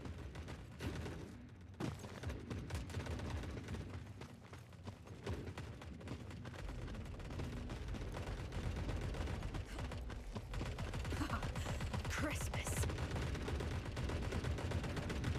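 Rapid gunfire bursts and machine-gun fire from The Forever Winter keep going almost nonstop, dense and loud, with occasional heavier blasts layered over a steady mechanical rumble.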